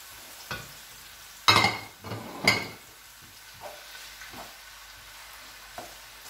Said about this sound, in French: Ça va cuire en même temps avec les rognons que j'ai enlevé l'eau.